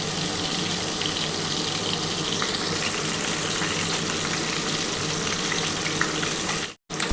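Pieces of katla fish fry in hot oil with a dense, continuous hiss and crackle. The sizzle cuts out briefly near the end.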